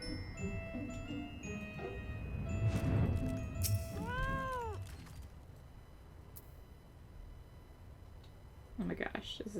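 A cat mount in the video game Final Fantasy XIV gives a short, rising-and-falling meow amid game music and effects, with a person talking over the busy background.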